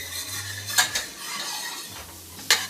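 Green onion sautéing in a pan for red coconut curry soup, a soft sizzle under a few distinct clinks of a utensil against the pan, close and fairly quiet.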